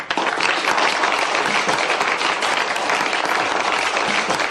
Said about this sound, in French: Je vous demande de l'applaudir, David Goodman.